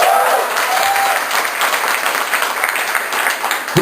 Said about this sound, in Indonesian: Tepuk tangan yang follower gue.